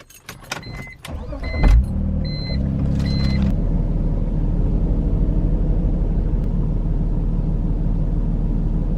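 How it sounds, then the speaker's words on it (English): A Subaru WRX engine cranks with a few clicks and a brief whir, then catches and settles into a steady low idle rumble close by. "Let's see if this car starts so I can move it back."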